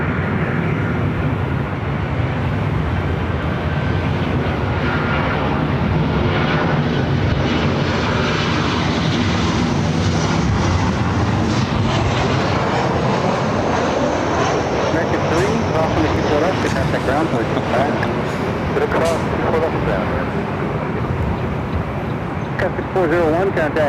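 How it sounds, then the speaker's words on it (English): A Delta Boeing 757-300 jet taxis at LAX toward runway 24 Left, its engines giving a steady, loud broadband roar that swells slightly midway, with voices talking over it throughout. "Delta 757-300 starting its taxi. Should be heading up here to 24 left."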